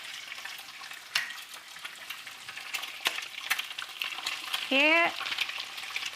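An egg frying in a hot pan for fried rice makes a steady close sizzle, broken by a few sharp clinks of a utensil, with a brief spoken word near the end.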